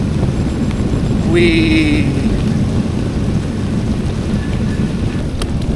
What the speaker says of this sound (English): riding in heavy rain